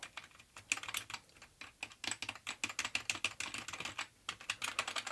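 Keys on a Sinclair ZX Spectrum+ keyboard are pressed in quick, irregular bursts of crisp clicks, close and fairly quiet, with no talking.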